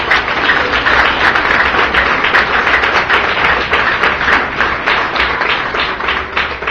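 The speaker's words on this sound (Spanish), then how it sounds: "Dale fuerte aplauso al Señor por él." A church congregation claps together in a dense, continuous burst of applause that stays fairly loud and even for several seconds.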